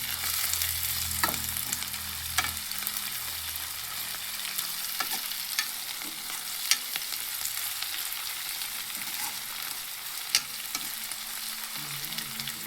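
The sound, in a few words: frying in oil for Muslim-style dal fry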